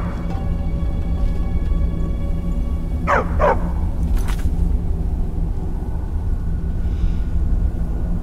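Barbas, a dog in the video game Skyrim, gives two quick close barks followed by a fainter third, over a steady low droning game background.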